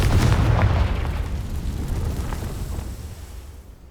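A Confringo blasting spell in the Hogwarts Legacy video game erupts in a loud, deep explosion, with a heavy rumbling blast at the start that slowly decays over several seconds.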